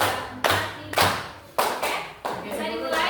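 Students at a school Islamic short-course session clap in unison in bursts that grow from one to five beats, each sharp, close group clap ringing slightly in the room.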